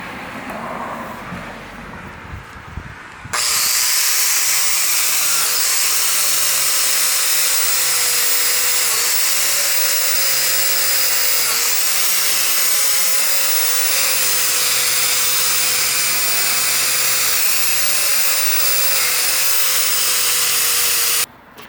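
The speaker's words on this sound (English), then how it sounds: "I got the wire wheel on the angle grinder here and we're gonna clean this up" An angle grinder fitted with a wire wheel scrubs a bench vise in a loud, harsh, close-up roar. It starts abruptly after a few quiet seconds and holds steady almost to the end, with slight dips in pitch as it bites.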